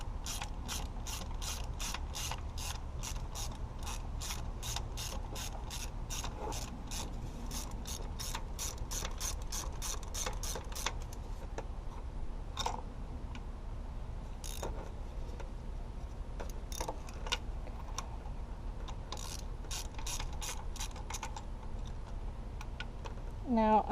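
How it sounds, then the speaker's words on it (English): A ratchet with a 5/8 spark plug socket and extension works on the spark plugs of a Saturn SL, giving rapid, steady clicking bursts close by, then slower scattered clicks toward the end. "for these spark plugs, it's going to be a 5/8 socket. Use an extension with it"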